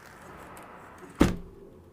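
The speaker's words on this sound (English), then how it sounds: "Sounds like metal is rocking every time I shut that window" A hotel room window is shut once with a sharp thud and a brief metallic rattle, heard close in a quiet room.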